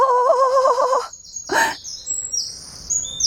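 Birds in a forest sing close by: a bright, trilling warble repeats quickly for about a second, a sharp chirp follows, then thinner high calls and chirps scatter more faintly across the quiet woods.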